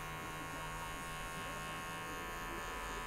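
Electric hair clippers fitted with a guard cutting hair during a European-style soccer haircut, giving a steady, close buzz with a constant hum throughout and no pauses.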